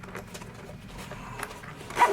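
A quiet zipper on a Moment Everything Sling 4L bag being pulled in a couple of short, scratchy runs, close by, with a slightly louder rasp near the end.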